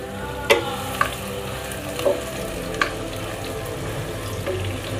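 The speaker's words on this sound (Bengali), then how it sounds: "তো আমি এখন এর ভিতর দিয়ে দেব 1 কাপ পরিমাণে পেঁয়াজ কুচি করে রেখেছি সেটা" Chopped onions frying in a pan for a beef curry, a continuous close sizzle broken by a few sharp scraping clacks of stirring, with no talk.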